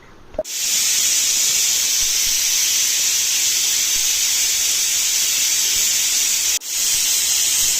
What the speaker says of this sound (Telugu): మనకి 2 విజిల్స్ వచ్చేంత వరకు కుక్ చేసుకోవాలి